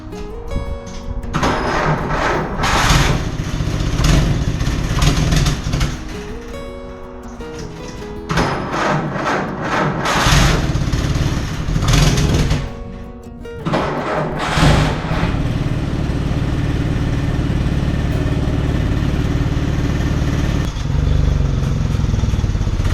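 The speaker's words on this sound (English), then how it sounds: "let's take this thing for a road trip." A 1952 Willys Overland 4x4 truck on a road test, its engine running loud and close with revving surges and gear changes, rising and dropping over a steady rumble.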